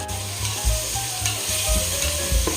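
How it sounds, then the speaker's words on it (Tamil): Chopped onions and tomatoes sizzle and fry in a pan for mutton biryani, a steady hiss with periodic scraping stirs, close and fairly loud, no talk. "ரெண்டு பெரிய வெங்காயம் கட் பண்ணி வச்சுருக்கேன் இதை நான் சேர்த்துக்கிறேன்"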